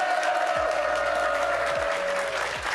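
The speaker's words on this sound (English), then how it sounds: "Give yourselves a round of applause." An esports crowd at the 2024 Rocket League World Championship applauds steadily, a dense wash of many hands clapping at once, loud and sustained throughout.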